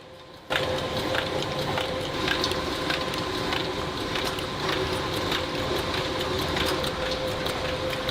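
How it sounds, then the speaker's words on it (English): Factory machinery runs steadily as a robotic system packs toothbrushes into cardboard boxes on a conveyor, a constant mechanical hum with a tonal whine and rapid regular clicking after a sudden start. "a robotic system is used for packaging toothbrushes individually into cardboard containers"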